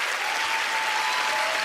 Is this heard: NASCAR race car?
no